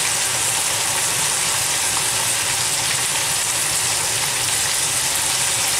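Crab pieces stirred into a sizzling Sri Lankan-style chilli curry with curry leaves and pandan give off a loud, continuous frying hiss with a constant roar.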